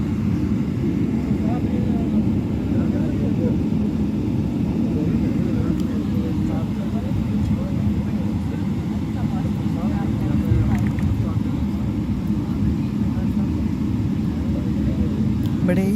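Steady, loud roar of a passenger airplane cabin in flight, a dense low drone with an unchanging hiss that fills the whole stretch, with no clear voices standing out.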